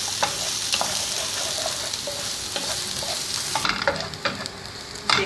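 Cumin and finely chopped onion frying in a pan, a steady close sizzle throughout with occasional clicks of stirring.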